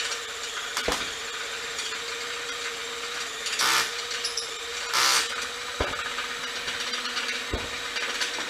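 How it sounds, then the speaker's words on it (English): A power drill whirs steadily through wood while fitting boat trailer axles, with two louder bursts of drilling in the middle and a few sharp knocks, no talking. "Right, let's drill some holes."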